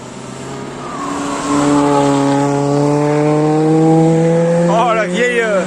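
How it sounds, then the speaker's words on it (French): Cars race past on the Nürburgring circuit in Germany, loud engine notes rising and falling in long sustained tones as several machines approach and sweep by, with a Doppler-like drop near the end. "je vais vous faire quand même un petit plan de quelques bagnoles qui passent"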